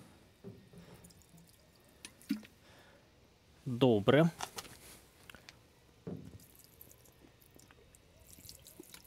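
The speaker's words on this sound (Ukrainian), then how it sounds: "І зараз ще просто пролью воду." Water poured from a bottle splashes onto a car's painted panel during a polish test, a short burst of splashing with scattered drips before and after, while a person speaks briefly nearby.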